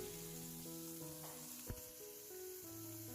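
Fish frying in a pan on a stove gives off a soft, steady sizzling hiss that runs unbroken throughout, with no talking.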